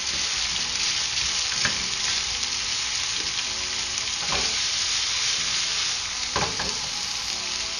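Chicken and vegetables being stir-fried in a pan for chicken fried rice, a constant bright sizzle with a few spatula scrapes at irregular moments, close and without speech.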